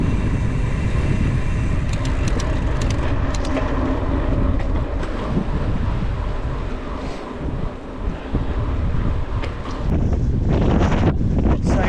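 Strong wind buffets the microphone during an uphill climb near Bilbao, a loud continuous roaring rumble with gusty swells, easing briefly before rising again.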